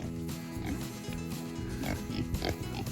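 Kunekune pigs on a farm give close, repeated low grunts and snuffles against a busy barnyard background, with a voice faintly present.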